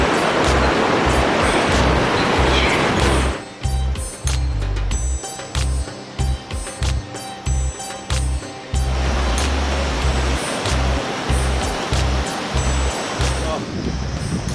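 Mountain river rushing on the Kanchenjunga trek, a loud broadband roar of water that drops away in the middle into choppy, intermittent bursts, with a voice talking over it.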